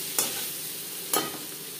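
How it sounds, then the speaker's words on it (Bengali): Paneer fries lightly with salt and turmeric in a pan, a steady close sizzle broken by two sharp scrapes of a spatula stirring, with no voices. "লবণ হলুদ দিয়ে পনির হালকা করে ভেজে নেব।"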